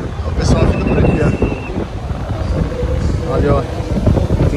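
Strong wind at Taperapuã beach, Porto Seguro, buffets the microphone in a constant low roar, with a person talking underneath the gusts.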